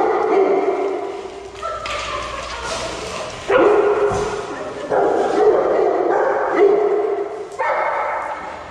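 An excited, dog-aggressive Irish Setter gives loud, close high yips, barks and whimpering whines in repeated bursts.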